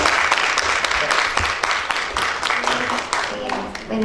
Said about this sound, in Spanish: pues un aplauso nuevamente para cerrar